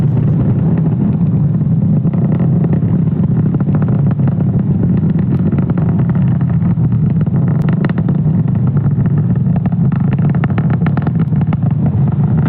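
SpaceX Falcon 9 rocket carrying Starlink satellites climbing away from SLC-40 at Cape Canaveral, a steady loud low rumbling roar with a crackling edge that fills the whole stretch without a break.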